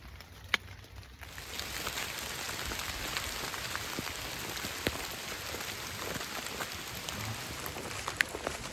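Steady rain pours down outdoors during a storm on Ohio public hunting land, a dense even hiss of drops with a few sharper taps close by, and no voices.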